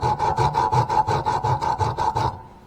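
Sandpaper rubbed by hand over an old rusty metal tent stake in about ten quick, regular back-and-forth rasping strokes, close and clear, stopping abruptly at the end.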